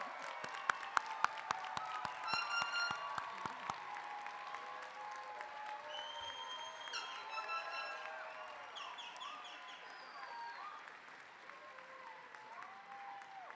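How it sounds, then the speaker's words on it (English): Audience applause fills a commencement ceremony hall, a steady wash of many clapping hands that starts with a few sharp claps and holds for over ten seconds, with faint whistles and cheers in the crowd. "You can clap."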